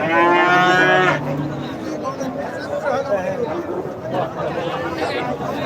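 A single loud, close moo from cattle at a livestock market ends abruptly in the first second, then crowd chatter and voices carry on through the rest.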